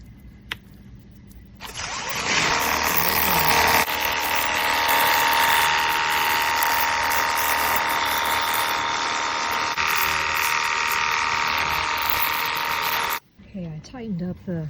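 Ontel Turbo Jet HydroX5 Pro cordless pressure washer, 21V, fed from a garden hose and run on high power: a loud, steady motorized hiss and spray that starts after a short quiet lead-in, runs about eleven seconds, then cuts off abruptly.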